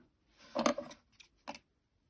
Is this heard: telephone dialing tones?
no